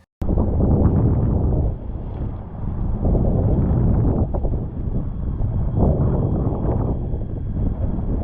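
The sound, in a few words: wind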